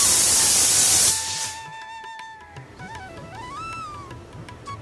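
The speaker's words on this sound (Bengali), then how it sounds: "তো প্রেসার কুকারে বসেছি সয়াবিনটা সিদ্ধ করতেছি" A pressure cooker boiling soybeans lets off a loud, rushing hiss of steam that cuts off after about a second and a half, followed by quieter wavering whistle-like tones close by.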